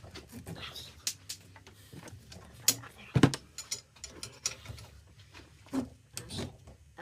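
Ratchet wrench clicking while tightening the top nut on a Bilstein 5100 height-adjustable strut held in a spring clamp, for a 2003 Toyota Tundra; irregular bursts of mechanical clicks and clanks, with a loud metallic hit midway.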